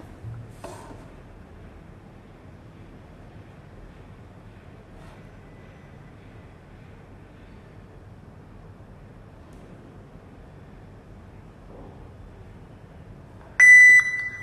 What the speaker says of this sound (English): One beep means it connected successfully.